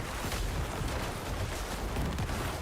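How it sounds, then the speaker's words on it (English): Corpse explosion blasts in Diablo 4, a loud, continuous barrage of overlapping booming bursts filling the whole stretch without pause. "when the corpse explosion crits already, it's just doing millions"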